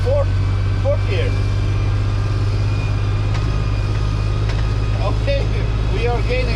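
A Valmet 505 tractor engine drives in fourth gear with a steady, loud low drone that holds throughout, while a voice is faintly heard over it.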